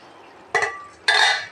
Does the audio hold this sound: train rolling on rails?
no